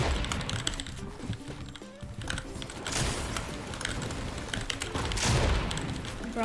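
SMG gunfire in the video game Fortnite comes as rapid bursts of shots over a busy game mix, with quick repeated reports bunched together.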